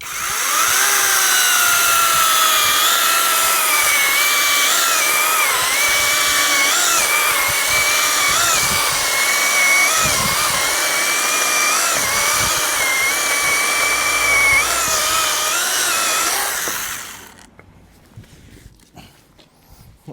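A SHIDOKU PG4 cordless chainsaw cuts through wood, its loud steady whine running nearly unbroken for about seventeen seconds before stopping abruptly, leaving quiet background.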